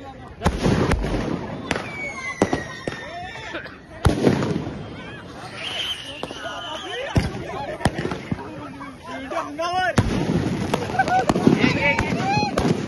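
A 12-shot firework cake goes off at a Diwali celebration, with irregular sharp pops and bursts, some whistling, over a noisy background where people talk throughout.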